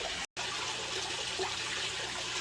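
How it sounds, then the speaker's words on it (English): Water spills over the rim of a full aquaponics tank in a greenhouse, a steady close wash of running and dripping water that continues without pause apart from one brief dropout. "the tank is finally full enough that we're starting to overflow"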